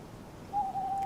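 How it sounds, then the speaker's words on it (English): A single owl hoot in the DayZ video game on the Chernarus map, faint and drawn out over a low background hiss, with no talking. "whenever we hear the owls now"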